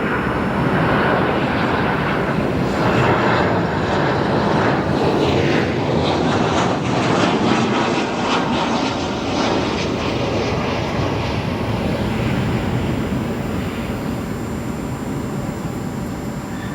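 An airplane arriving at O'Hare International Airport makes a loud, sustained roar of jet engines that swells and then slowly fades as it passes, with no voices.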